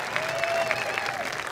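A high school graduation audience applauds, a dense wash of many hands clapping steadily at moderate distance, with a few louder claps and faint crowd voices mixed in.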